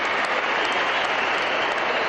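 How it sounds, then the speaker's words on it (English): A stadium crowd at a futsal World Cup match applauds the Portugal team, a broad, steady wash of clapping and crowd noise filling the arena without pause. "Warm applause for Portugal."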